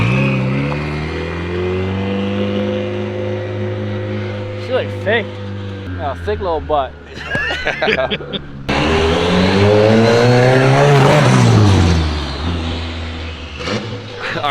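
A turbocharged K-series engine in an FRS fires up for its first start, rumbling steadily, then revving and surging as the car pulls away for its first drive, loud and close, with people talking over it.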